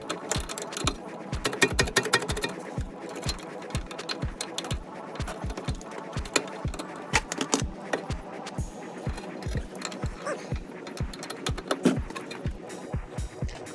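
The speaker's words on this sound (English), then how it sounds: "try to hit them with an impact from the other side" An impact wrench works on the stock end links of a front-wheel-drive car, giving a steady train of sharp, evenly spaced mechanical raps at close range that carry on throughout without talk.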